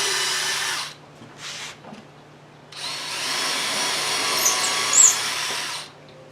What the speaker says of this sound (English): you absolutely need to do a pilot drill on all 4 corners